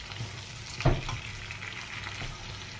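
Onion and tomato sauté in a pan for pinakbet with a soft, steady sizzle, and a single clink of stirring cuts in about a third of the way through. No one speaks.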